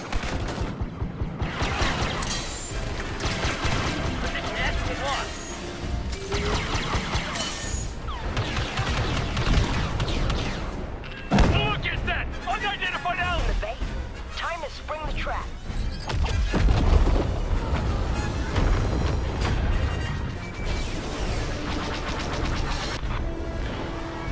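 Grenade explosions and gunfire from the Star Wars Battlefield 2 video game fill a dense, continuous battle din, with repeated sharp bursts and booms piling up throughout.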